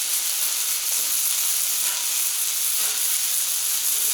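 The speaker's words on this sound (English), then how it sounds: "Let's go ahead and give these burgers a flip." Onion smash burgers sear on a Camp Chef FTG600 flat top grill outdoors in record -23°F cold, a loud continuous close-up sizzle with no pauses.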